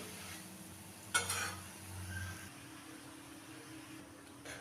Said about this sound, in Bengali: এরকমভাবে উল্টিয়ে আমি সবগুলো বড়া ভেজে নেব।